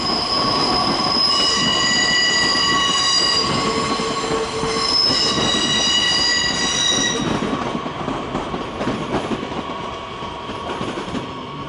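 Talent regional train rolling past outside München Hbf in the evening, a loud continuous rail rumble with steady clatter and bright sustained wheel squeal tones that fade slightly toward the end.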